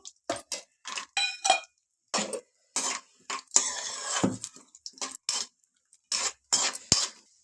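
Almonds and cashews fried in two spoons of ghee in a pan, with a spoon clinking and scraping in short, irregular bursts separated by brief pauses, close and moderately loud.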